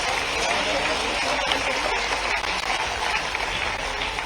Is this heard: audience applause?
yes